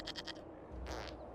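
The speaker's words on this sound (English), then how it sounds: "we discovered this man attacking the building with a" A goat bleats in the video game Dragon Age: Inquisition: a quick run of three short, nasal bleats, then a longer bleat a moment later, fairly close and heard without speech.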